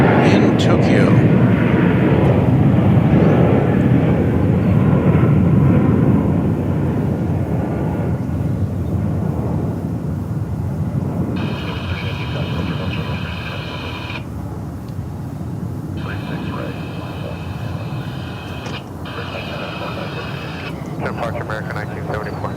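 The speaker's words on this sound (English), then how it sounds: "It's making the turn on runway 36 right to head back to Haneda" An airliner on a runway at DFW Airport turning for takeoff, a loud broad jet roar that slowly eases and stays steady, with a person talking over it and brief tonal radio-like sounds in the latter half.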